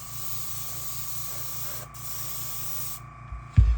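A Paasche VL5 airbrush sprays a white base coat in a steady, close hiss that runs unbroken for about three seconds, then cuts off, followed by a brief knock.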